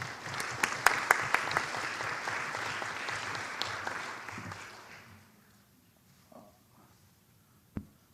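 Warm applause from a seated audience at a research paper competition, greeting a presenter from the Korea Export-Import Bank; steady broadband clapping with a few sharper claps, fading out after about five seconds into near silence with one late tap.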